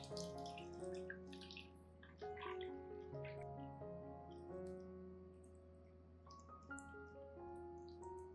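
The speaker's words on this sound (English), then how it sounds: "The aloe vera water used for soaking will be poured into this pot." Aloe vera soaking water poured into an orchid pot, a steady trickling splash heard close up with faint drips. No one talks, and music plays softly underneath.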